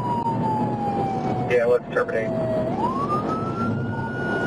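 A police car siren wails during a highway chase, a long sweeping tone that dips and rises again over engine and road noise, with a brief burst of talk in the middle.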